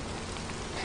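Steady rain falls in a continuous, dense hiss, loud and close and even throughout.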